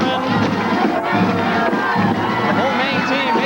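A huge crowd roars and cheers continuously after the University of Maine hockey team's 1993 national championship overtime win over Michigan, a dense sustained wall of voices with shouts rising above it.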